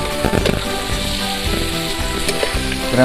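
Crab frying with masala in a pan makes a loud, close, rain-like sizzle that runs continuously, with faint stirring knocks and no talk.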